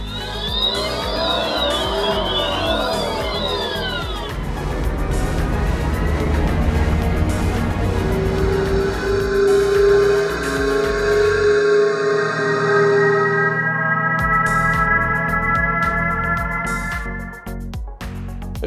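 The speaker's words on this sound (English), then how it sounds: "Are you familiar with the acoustic alert for pedestrians?" A run of electric car pedestrian warning tones plays in succession: warbling, siren-like sweeps, then steady humming drones and layered synthetic tones. The sound is continuous and fairly loud, with no talking.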